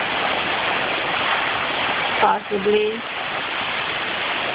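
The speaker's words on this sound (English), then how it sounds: "here comes a little more wind again. Rain. Pretty heavy. Pretty gusty." Tropical storm Isaac lashes down with heavy rain and gusty wind of about 30 to 35 mph, a steady loud hiss of water that runs throughout, while someone speaks briefly partway through.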